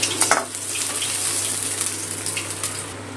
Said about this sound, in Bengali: মাছটা ভাজা হতে থাকবে